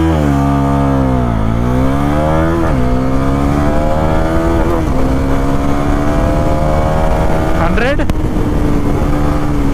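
A Bajaj Pulsar NS400Z motorcycle accelerating on a track toward 100 km/h. Its loud, close engine drones steadily, with pitch dipping and climbing through gear changes and a sharp rev rise near the end.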